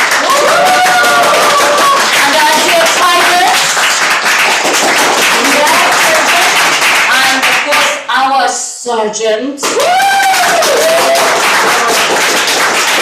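Audience applause at a humorous speech contest, loud sustained clapping from a crowd that briefly dips and resumes, with someone speaking over it.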